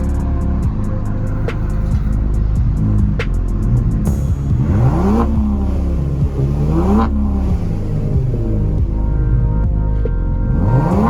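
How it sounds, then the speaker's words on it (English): A 2018 Kia Stinger GT with the mufflers deleted revs hard, its loud raw exhaust rising and falling in repeated surges over a constant rumble. "You should be hearing the exhaust here soon"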